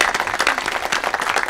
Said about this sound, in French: On applaudit très fort pour Stella